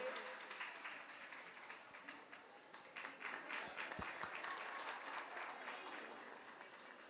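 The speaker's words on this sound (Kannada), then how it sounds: "ಬರ್ಲಿ ಜೋರಾದ ಚಪ್ಪಾಳೆ, ಪ್ರೀತಿಯ ಚಪ್ಪಾಳೆ ಬರ್ಲಿ ಎಲ್ಲರೂ ಸೇರಿ" Audience applause at a ceremony where a lamp is lit to open the event, steady dense clapping across the whole stretch with a few louder bursts, fairly close and full, no talk over it.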